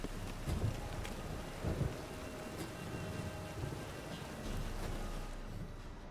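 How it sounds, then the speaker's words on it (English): Rain in The Witcher 3 video game, a soft, steady wash of falling rain with a few low rumbling thumps like distant thunder, faint and without speech. "Rain again."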